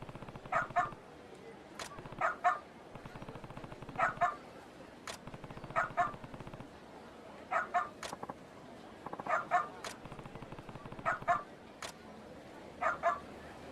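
A dog in Like a Dragon: Ishin! keeps barking in short doubled yaps at steady intervals, close and clear above low game background noise.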